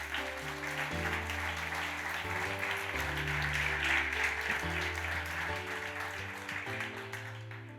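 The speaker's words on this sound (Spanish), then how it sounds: "Denle un aplauso al Señor." A church congregation applauds for the Lord, a continuous clapping wash that carries over sustained organ or keyboard chords changing every second or so.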